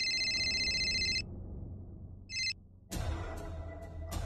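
An incoming call's phone ringtone in a Marathi TV serial: a bright electronic ringing trill plays for about a second, cuts off, returns in a brief burst, then gives way to room noise.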